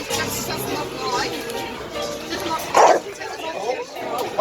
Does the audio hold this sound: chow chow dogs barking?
yes